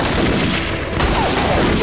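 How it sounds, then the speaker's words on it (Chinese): Dense, continuous gunfire and battle noise from a war film about guerrillas fighting Japanese troops, loud and sustained throughout with no clear pauses. "没有听见枪声吗"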